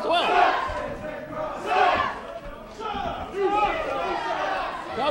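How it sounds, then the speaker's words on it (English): A wrestling crowd at an NWA Wildside hardcore match jeers and shouts in loud rolling waves, a dense mass of voices rising and falling throughout. "Crowd getting on the case of Sweet Dreams."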